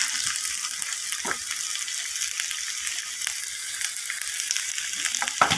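Green chillies and coriander leaves with salt fry in hot oil, giving a steady, close crackling sizzle with a few soft stirring knocks and no voices.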